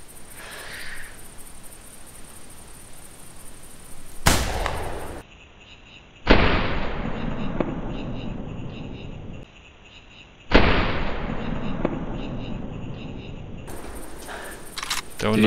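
A rifle fires at a deer in the hunting game The Hunter: a sharp, loud shot at about four seconds, followed by broad bursts of noise from further shots or echoes, with game ambience between them.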